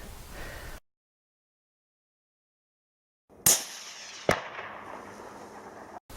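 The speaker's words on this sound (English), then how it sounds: "so let's just take a shot where it was" A single sharp rifle shot fired at a fox at night with a Pulsar Thermion thermal scope, a loud crack followed a moment later by a second report and a fading echo after near silence.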